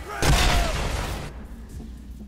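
Explosion in the shooter Bulletstorm, a single loud, close boom that strikes suddenly, then rumbles and fades over about a second into quieter background noise.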